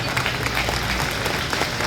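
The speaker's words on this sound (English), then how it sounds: "round of applause for everyone" Outdoor crowd applause at a cancer survivor picnic in Sioux Falls, a dense, steady wash of clapping from many people with a low background rumble.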